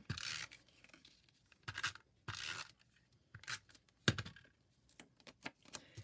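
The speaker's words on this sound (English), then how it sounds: "we're going to put some tape" Tape being pulled and torn for a paper craft with designer paper, heard as several short, close ripping and tearing bursts separated by quiet gaps.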